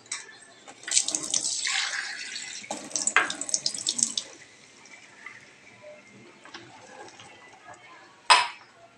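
Water pours from a tap into a pot of boiling rice on a gas stove, a bright splashing rush for a few seconds that fades, with a clink of metal near the end and a voice speaking.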